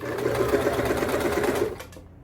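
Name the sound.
sewing machine stitching shorts diagonally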